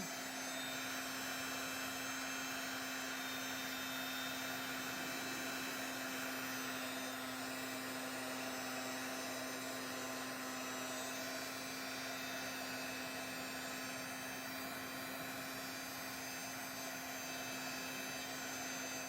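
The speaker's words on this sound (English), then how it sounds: "So what I'm gonna do is just take the heat tool to it." A heat tool blows steadily and loudly for the whole stretch, drying crackle paste on a mixed-media weathered wood project, with a constant whooshing roar and a strong steady hum.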